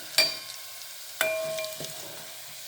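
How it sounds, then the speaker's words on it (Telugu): Onion and tempering spices frying in oil in a pan, a soft, low sizzle broken by a few sharp ringing clinks of a metal utensil. "ఇప్పుడైతే నేను ఆయిల్ పోసుకొని ఆనియన్ పోపు దినుసులు అన్నీ వేసేసుకున్నాను"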